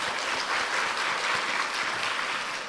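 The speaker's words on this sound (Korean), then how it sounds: "하나님 앞에 영광의 박수 한번." A church congregation at a Korean Sunday worship service breaks into full, dense applause, loud and sustained from start to finish.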